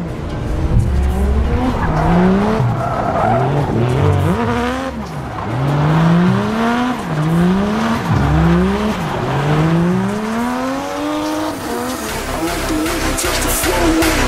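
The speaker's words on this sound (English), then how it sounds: "Se liga como que o cara manja no drift. Tá vindo aqui, ó. Essa impecável BMW." A BMW drifts at a car event in Campo Grande, its tires squealing in repeated rising and falling sweeps over a loud, steady engine roar, with music playing throughout.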